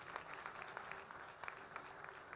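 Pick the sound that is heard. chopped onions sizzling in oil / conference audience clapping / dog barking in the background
conference audience clapping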